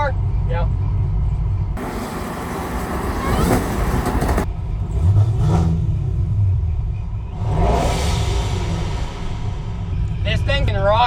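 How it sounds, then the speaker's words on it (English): Supercharged Cadillac accelerating past, heard from outside: a deep engine rumble and rising roar that swells and fades, with people talking nearby over it. "Does a supercharger sound good from outside the car?"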